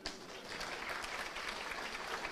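Lively audience applause at a lecture hall talk, a dense steady wash of clapping hands throughout the short stretch, fairly close and uninterrupted.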